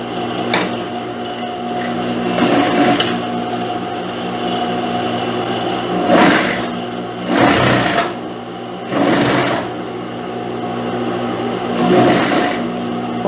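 A sewing machine stitches the armhole seam of a yoked dress, a loud steady motor hum broken by several sharp bursts of rapid needle stitching.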